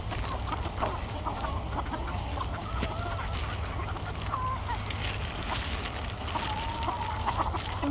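Free-range chickens cluck and call intermittently against a steady low hum, with scattered bird sounds throughout; no one speaks.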